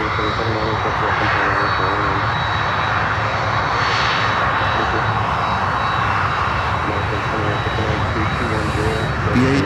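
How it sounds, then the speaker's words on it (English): An Avianca Airbus A330-200 converted from passenger to freighter roars steadily as it comes in, a loud continuous engine rumble holding throughout with faint voices underneath. "we have Avianca 330-200 passenger to freighter conversion coming in"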